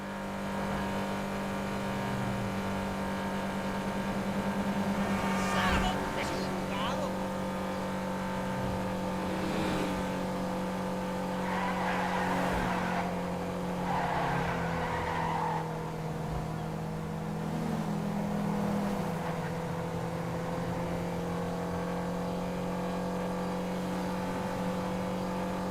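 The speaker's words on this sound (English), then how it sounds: "it sounds more like a motor vehicle, even though it starts off like a" A hybrid car in GTA Online starts nearly silent, then its engine drones and revs through the gears, a steady loud hum with pitch sweeps and shifts lasting throughout, with faint talk in places.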